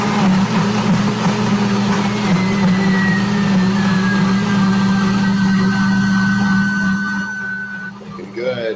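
A loud, steady motorized whir roars continuously close by, then cuts out near the end as things quiet down.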